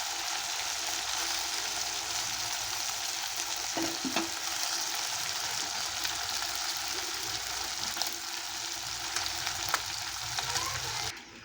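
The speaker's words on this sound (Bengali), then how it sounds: "মাছটাকে আগের থেকে ভেজে নেব আমি" Morola fish frying in oil in a wok make a steady, loud sizzle that runs unbroken for several seconds, with occasional light knocks and scrapes as the pieces are stirred and turned.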